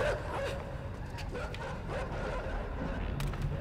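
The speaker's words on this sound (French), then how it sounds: "C'est un chien qui est arrivé par là, oh." A dog barks repeatedly in the video game Inside, its yips and bow-wows sitting inside a dense, steady wash of game sound.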